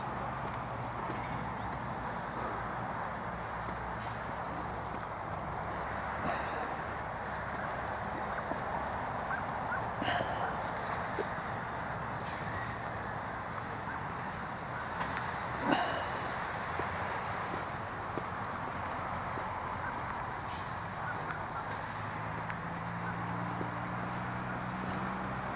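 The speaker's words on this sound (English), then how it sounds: "But at least we've got the horses out." Horses on a canal towpath walk with a steady clip-clop of hooves against a broad outdoor background hum, a few sharper hoof strikes standing out midway, no talk.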